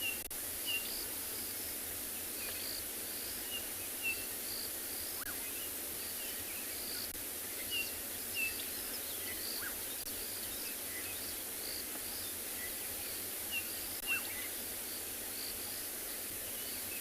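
Dawn chorus on a sunrise safari: a steady high insect and cricket drone with scattered bird calls and chirps in the distance, continuous and fairly faint with no talk.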